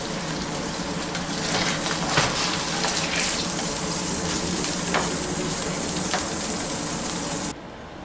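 Meat searing in a hot pan for crock pot stew, a loud, steady, close sizzle with crackles throughout that drops off abruptly near the end.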